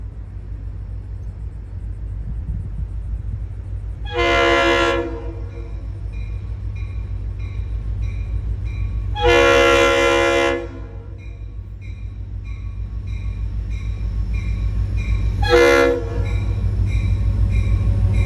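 A train rumbles steadily nearby while its horn sounds three times, two longer blasts and a short final one, loud over the engine drone.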